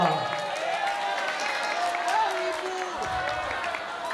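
Audience applause for Aryo at a National Waste Awareness Day event, a steady patter of clapping mixed with crowd murmur and voices talking through it.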